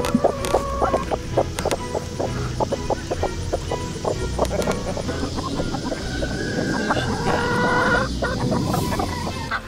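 Several chickens in a laying flock cluck and murmur continuously close by, with occasional sharper calls over a busy coop background.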